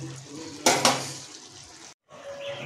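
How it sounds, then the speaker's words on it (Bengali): A spatula stirs masala in a pan for Assam-style rohu fish curry, giving two sharp scraping knocks against the metal over a soft sizzling background, then a brief pause before a quieter stir. "তাই ভালোভাবে খুন্তি দিয়ে এটাকে নেড়ে নেব।"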